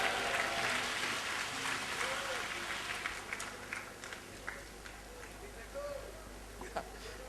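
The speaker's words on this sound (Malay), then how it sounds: "marilah sama-sama kita memberikan tepukan tangan kepada Brother Ali Ekspedisi." A crowd claps steadily throughout, dense and lively applause that swells and thins slightly, with a few louder individual claps standing out.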